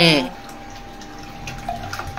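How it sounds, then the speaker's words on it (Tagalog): Murky Prime Water tap water runs from a faucet in a steady low splashing stream after a brief voice at the start, with faint flow noise continuing to the end. "Tubig ng Prime Water, ayan, pakinggan natin"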